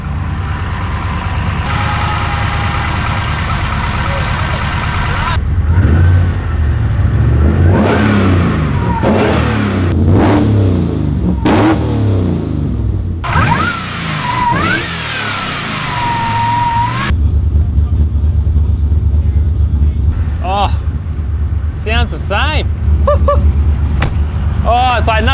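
A rebuilt car engine fitted with new cylinder heads starts and runs, revving repeatedly and then settling to an idle, loud and close, with people talking over it.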